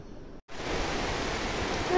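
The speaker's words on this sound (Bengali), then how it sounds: "এই দেখেন কেমন বৃষ্টি চলে আসলো" Sudden rain starts outdoors at a rural home, cutting in abruptly after a brief silence and then pouring as a steady, even hiss.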